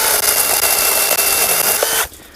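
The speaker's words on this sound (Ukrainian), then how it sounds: "пиляє, але що я не знаю, чи мала швидкість цепка чи що." A Procraft PKA44 cordless mini chainsaw cuts through tree branches with a steady, loud whining buzz that runs for about two seconds and then stops abruptly.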